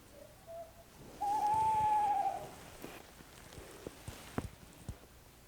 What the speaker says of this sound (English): An owl makes the sound.